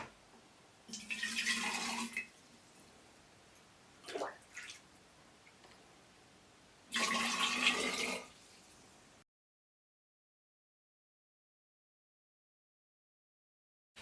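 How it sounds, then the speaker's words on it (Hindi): Hot water pours into glass jars in two distinct bursts of bright, splashing flow about six seconds apart, with a short trickle and clink between them, then silence. "तो सबसे पहले इनमें गर्म पानी डालते हैं, इन्हें ढक के एक साइड रख देते हैं"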